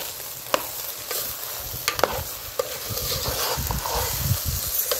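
A spoon stirs potato pulao in a cooking pot, scraping and clinking at close range over a soft, steady sizzle for several seconds. No voices are heard.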